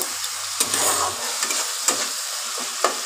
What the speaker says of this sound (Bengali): এগুলোকে আমি ভালো করে আরেকটু ভেজে নেব, ভালো করে নাড়াচাড়া করে ভেজে নিয়ে তারপরে আমি ফুলকপিটা দেব